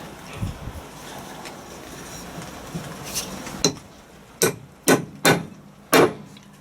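Metal-on-metal hammer strikes driving a bearing into a Land Rover Defender TD5 LT230 transfer box, first a few light taps under workshop noise, then four louder, spaced blows ringing out close by.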